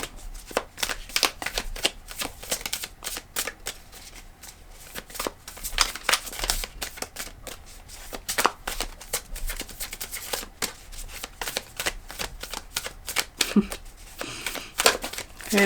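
Tarot cards being shuffled over and over in a close, steady stream of crisp riffling and soft slaps, a continuous papery rustle with no talking.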